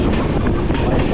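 A train races along the line near the Dudhsagar waterfalls in Goa, giving a loud, continuous rumbling roar mixed with rushing wind.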